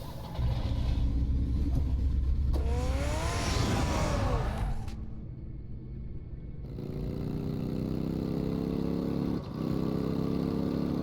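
A car engine in a Batman video game, a loud low rumble that rises into a revving whine, cuts out briefly, then returns as a steady lower drone with a small bump near the end.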